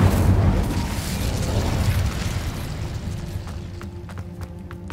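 Incendio fire spell cast in Hogwarts Legacy, heard as a loud rumbling whoosh that fades into a lingering roar, with sharp crackling pops near the end.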